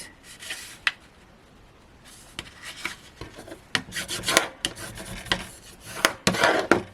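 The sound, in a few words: burnishing cardstock pieces down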